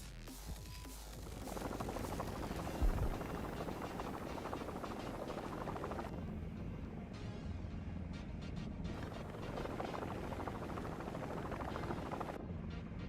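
A helicopter in the War Thunder video game, its rotor and engine drone steady and fairly loud throughout, with no talking over it.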